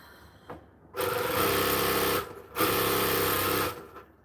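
A sewing machine runs in two loud, steady bursts of about a second and a half each, separated by a brief pause, close up with no talking.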